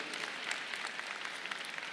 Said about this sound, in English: Yeah, sure, that's applause-worthy.